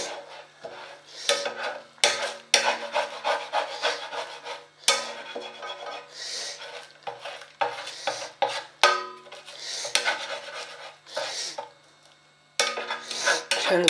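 Scrambled egg being stirred and scraped around a pan with the heat off, the utensil clattering and rasping against the metal in busy bursts with brief pauses, close and fairly loud.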